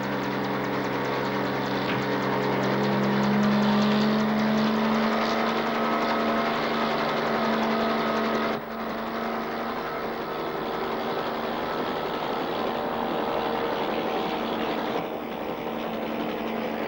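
A helicopter in a 1981 Spider-Man TV episode drones steadily with a loud, continuous rotor and engine roar that shifts slightly in pitch and level throughout.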